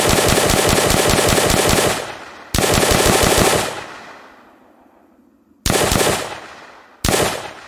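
STG44 rifle gunfire in a Nazi Zombies shooter game: four loud, close bursts of rapid automatic fire, each ending in a ringing decay. The first two bursts run longer, and the last two are short.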